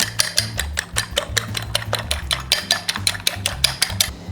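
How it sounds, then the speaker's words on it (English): Eggs are whisked in a bowl with quick, evenly spaced clinks and taps against the sides, loud and close, at a brisk steady rhythm. "Okay, whisk."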